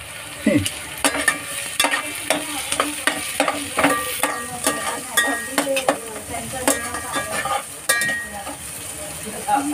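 A spatula stirs egg fried rice in a hot street-food pan, with sharp metallic scrapes and clinks repeating over a steady sizzle, close and loud, without speech.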